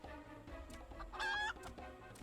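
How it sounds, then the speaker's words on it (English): A chicken clucks in a video game, a short burst of bright squawking clucks rising sharply in the middle, fairly faint overall and heard alone without talk. "Chicken."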